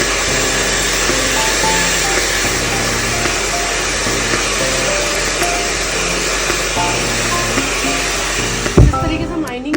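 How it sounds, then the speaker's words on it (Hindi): A hair dryer blows steadily and loudly throughout a straight haircut, a continuous broadband whoosh with a low hum, cutting off near the end with a brief clatter. "देन हमें ड्रायर को इस तरीके से रखना है।"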